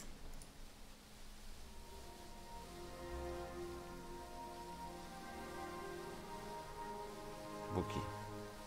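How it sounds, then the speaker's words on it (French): Steady rain patters in the Mars Horizon space-agency game, a constant soft hiss of drops on a surface running throughout with a brief sharper clatter near the end. "Il pleut, pas bon du tout."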